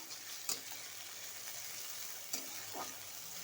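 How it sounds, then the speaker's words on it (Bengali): Onion frying in a pan gives a quiet steady sizzle, broken by two or three brief scrapes of a spatula stirring; close and without voices. "পেঁয়াজটা একটু ভাজা ভাজা হবে।"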